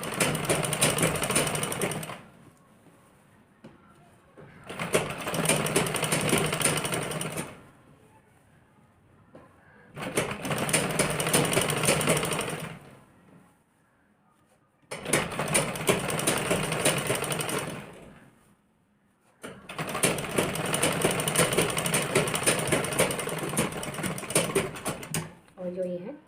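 A sewing machine runs close and loud, stitching along the edges of blouse fabric in five long bursts of steady mechanical whirring, with quiet pauses between them.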